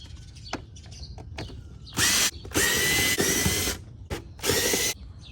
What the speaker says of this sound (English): So we're going to undo 6 T25 screws.